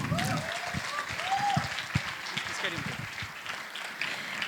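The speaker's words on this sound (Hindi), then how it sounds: "एक बार जोरदार तालियां बजाइए।" An audience at a classical Sanskrit play, Karnabharam, claps in a broad wash of applause, with voices carrying over the clapping throughout.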